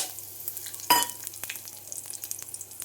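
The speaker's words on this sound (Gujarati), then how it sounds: "ચાલો તો હવે વઘાર મારી દઈ" Whole spices tempered in hot oil for a vegetable curry, a sharp burst of sizzle hitting the pan followed by a steady soft crackle and faint stirring scrapes, close and fairly quiet with no talk.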